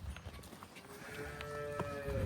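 Sahiwal-Jersey cross dairy cows give a faint, low, drawn-out moo in the second half of a quiet stretch in a cattle shed, with soft rustling around them.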